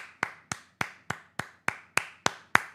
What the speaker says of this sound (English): I'm going to give that a seated applause.